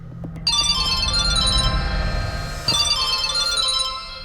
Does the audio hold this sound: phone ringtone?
yes